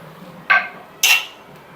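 A lid set down on a cooking pan of ridge gourd curry, two quick metallic clanks, the second brighter and louder, close and otherwise quiet.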